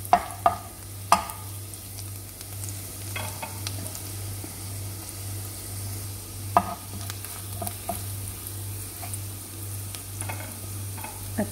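Garlic frying in oil in a pan while being stirred, a steady soft sizzle throughout with occasional close scrapes and clinks of a utensil, no talking.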